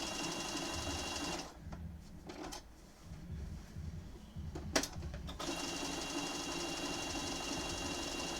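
A sewing machine fitted with Schmetz chrome needles stitches appliqué through glue for a Pokémon quilt, a rapid close whirring chatter that stops for a few seconds midway, then resumes steadily.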